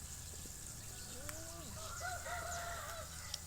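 A rooster crows in the distance in a rural Thai village, a drawn-out rising and falling call, over steady background noise.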